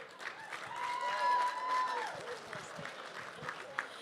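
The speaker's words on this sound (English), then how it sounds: "You guys give Logan one more round of applause." An audience at the 2025 Lone Star Open Auctioneer Championship applauds, a moderate wash of clapping from a crowd at some distance, with a voice speaking over it.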